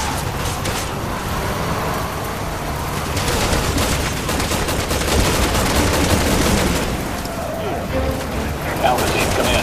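Gunfire from Resident Evil 6 on PS3, Chris Redfield co-op campaign: dense, continuous bursts of shots and battle noise running throughout, loud and busy, with some voices mixed in.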